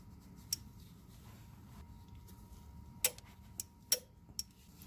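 A torque wrench set to 55 foot-pounds clicks a few times, sharp and isolated, while clutch bolts are tightened in a crisscross pattern on a 2018 Subaru WRX. Quiet workshop hum fills the gaps.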